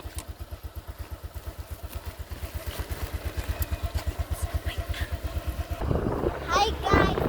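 A motorcycle engine putters in a steady, rapid pulse that builds slightly as the ride goes on, close and loud, before wind and voices take over near the end.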